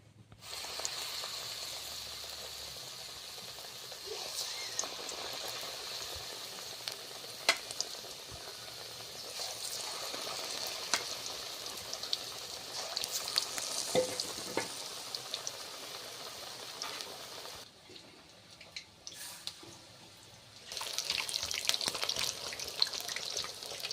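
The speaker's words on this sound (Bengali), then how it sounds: "এবার আমি কুমড়ো ফুলির গায়ে বেসন লাগিয়ে নিয়েছি তো এবার আমি তেলে দিয়ে দিচ্ছি" Pumpkin flowers coated in gram flour batter frying in hot oil, a continuous bubbling sizzle at moderate level that briefly drops away near the end before returning louder.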